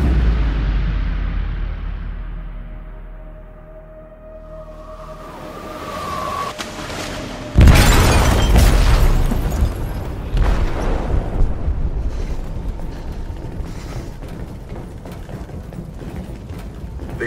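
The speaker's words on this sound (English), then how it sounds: "They detonated an explosive in the hold." In the video game Detroit: Become Human, an explosive detonates in a ship's hold: a low mechanical rumble and rising creak build up, then a sudden heavy blast hits and trails off into a long roaring, rattling aftermath.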